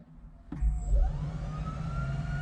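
An electric motor in a converted Polski Fiat 126p starts with a sudden click and then hums steadily, a rising electric whine over a low rumble, close by.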